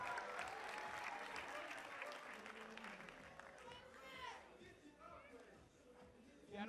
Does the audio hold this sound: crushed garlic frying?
no